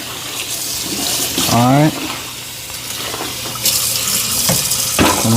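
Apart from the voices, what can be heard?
running water rinsing out mop bucket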